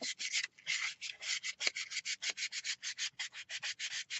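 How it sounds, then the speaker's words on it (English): Sandpaper rubs back and forth on a small wooden handmade drop spindle in quick, steady rhythmic strokes, close and fairly quiet, with no talking. "So let me sand it just a little here."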